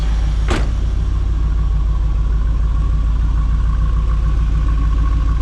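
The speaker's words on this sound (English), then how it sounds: "There's that dual exhaust, as you can see." A 1990 Pontiac Firebird Trans Am GTA WS6 idles steadily through its dual exhaust, a loud, constant low rumble with a faint hum above it and one sharp click near the start.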